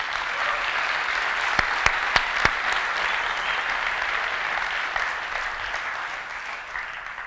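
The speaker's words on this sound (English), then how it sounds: "Big round of applause to everybody." A conference audience gives a sustained round of applause, a broad, steady wash of clapping from a large crowd with a few sharp individual claps standing out.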